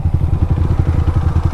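A Duke motorcycle engine thrums on a muddy road among a line of four bikes, a loud, close, rapid pulsing putter with slight clatter and no talk over it.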